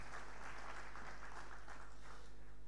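Audience applause at a business event welcoming a company cofounder, a steady crowd of clapping hands heard over a constant low electrical hum.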